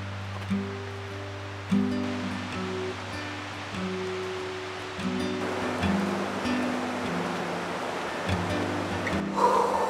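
A river flowing on a cold early morning makes a continuous broad rushing wash, with a low steady hum running underneath and a few soft bumps nearby.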